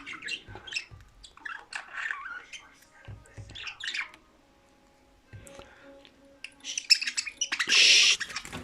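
Birds chirp and squawk close by in bursts, with a louder, harsher burst of calls near the end and quiet stretches in between.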